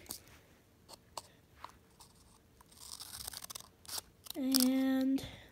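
Several scissor snips and crinkly rustling as a Sea-Monkeys packet is cut open, ending in a louder tearing cut with a brief squeaky tone, close up.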